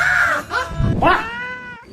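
A cat meows loudly and close, several drawn-out, wavering cries in a row with no other voices.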